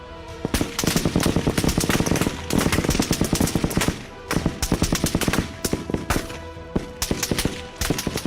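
Machine gun fire during a World War I battle at Verdun, a barrage of rapid, loud bursts with only short pauses between them, dense and close, with no voices.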